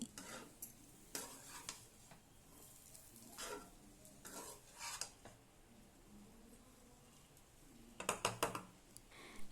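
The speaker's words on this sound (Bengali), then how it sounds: "এবার আমি ভালোভাবে নাড়াচাড়া করে মিশিয়ে দিচ্ছি।" Grated fresh coconut is stirred into semai in a pan: quiet, scattered bursts of scraping and light clatter separated by near silence, ending in a quick flurry of stirring strokes.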